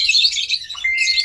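Caged pet birds of a high-mutation pair chirp in a dense, shrill chatter, close and loud, with overlapping high tweets throughout a brief moment.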